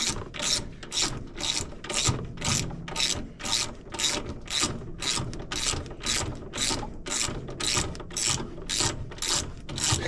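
A ratchet tightens a spark plug into a Craftsman lawn mower engine, its pawl clicking in steady, close bursts of back-and-forth strokes repeated all the way through, with no talking.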